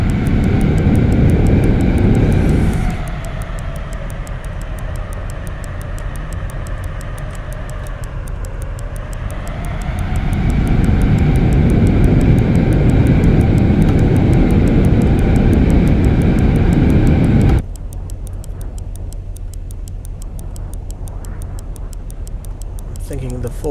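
An aircraft engine in a flight video game drones steadily and loudly, rising and falling in pitch and power, with someone talking over parts of it.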